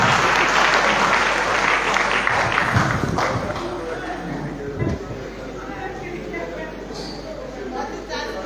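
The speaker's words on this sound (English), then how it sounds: "Clap for them." Audience applauding at the official launch of a political centrism movement in Liberia, a steady broad wash of clapping across the room with some crowd noise and voices mixed in, fading slightly toward the end.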